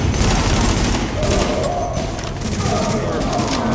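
Rapid gunfire and explosions from The Division video game, a dense barrage of shots and booms layered with fire noise, loud and continuous throughout.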